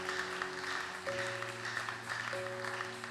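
A church congregation at a prayer seminar applauds in a steady patter of many hands, over sustained keyboard tones that hold beneath the clapping.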